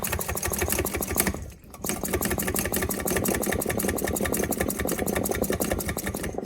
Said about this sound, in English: basically you're just building up some pressure in that bottle